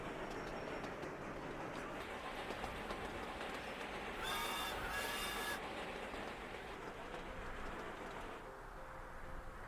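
A train pulling into a station in the railway-building game Sweet Transit: a steady, soft rumble with rolling clatter throughout, and a brief high squeal partway through, with no talking.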